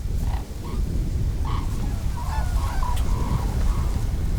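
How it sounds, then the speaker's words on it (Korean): A flock of red-crowned cranes gives scattered bugling calls at a distance over a constant low rumble of wind, at their feeding ground beside an abandoned bunker. "벙커 앞은 제두루미떼 먹이터네요."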